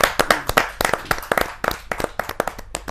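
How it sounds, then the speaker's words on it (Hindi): A crowd at a Hindi kavi sammelan poetry gathering claps to welcome a poet, with dense, lively applause of many hands close by and no voices. "जोरदार ताली के साथ रसिक गुप्ता जी का स्वागत"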